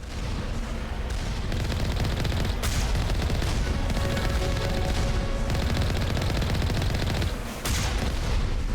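Mine turrets in Mass Effect 1 fire in dense, continuous rattling bursts with sharp cracks mixed into a loud combat din, close and unbroken, with no one speaking.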